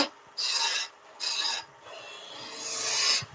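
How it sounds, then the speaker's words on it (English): A wood-turning gouge cuts into spinning wood on a lathe while making a baby toy, producing three separate raspy, shaving bursts with quiet gaps between them, the last one longer and building in strength. "I'm rolling the gouge over"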